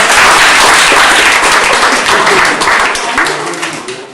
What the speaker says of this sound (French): Alors on peut aussi les applaudir, c'était magnifique.